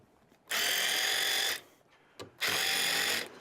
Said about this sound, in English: Now all I need to do is take a wrench and get rid of some of these